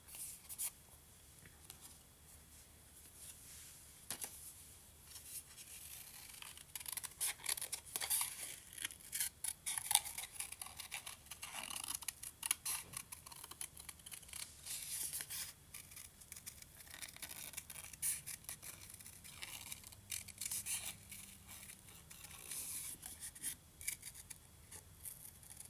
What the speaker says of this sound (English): we're just going to fussy cut around this